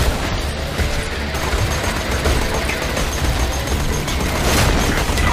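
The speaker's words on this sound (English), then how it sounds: "Let's use this submachine gun and get rid of this." Submachine gun fire in Borderlands 2, a dense, loud wash of rapid gunfire and booms that carries steadily through the whole stretch, with no talk over it.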